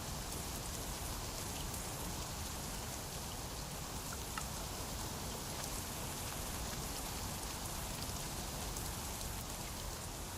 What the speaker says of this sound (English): It's been raining a while.